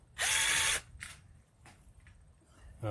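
A power drill with a socket on a flexible adapter spins a nut onto a bolt, a loud near whir of about half a second followed by a few faint ratcheting clicks and knocks, with another short burst starting at the end.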